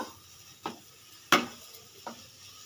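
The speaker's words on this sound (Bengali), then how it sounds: "এবার এর মধ্যে আমি দিয়ে দেবো ধনে পাতা কুচি। এবার আমি একটু নেড়ে চেড়ে নেব।" A few spoon scrapes and clinks against a pan as dry potato filling with chopped coriander is stirred, three or four separate strokes over a faint sizzle.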